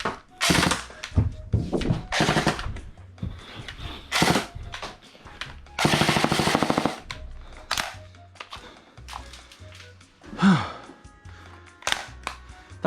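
A Fennec Vector airsoft electric gun fires in short, loud buzzing bursts with clacking mechanical noises and gaps between them, and a voice reacts briefly near the end.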